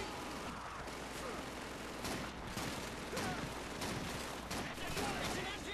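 Machine gun fire from the Call of Duty 2 video game, a fairly faint wash of battlefield gunfire with repeated bursts and scattered shots, some mechanical clatter mixed in, and no talk.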